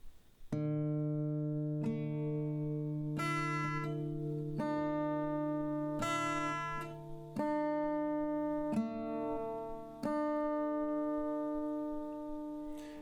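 Acoustic guitar fingerpicking a song's pattern slowly, single plucked notes ringing over a sustained bass. Quiet, clear and steady, with evenly spaced plucks and no talking.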